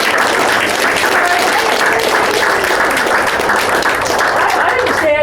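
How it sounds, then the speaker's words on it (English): Audience applause fills the room, loud, steady and continuous for about five seconds from a crowd clapping together, with a few faint voices mixed in. "Let's give Michael a round of applause"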